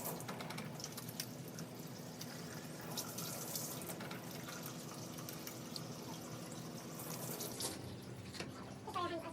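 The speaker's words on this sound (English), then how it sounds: "At this step then you'll wash your hands," Steady running tap water splashes into a sink as hands are washed, a close, even hiss with small drips, ending in a brief squeak near the close.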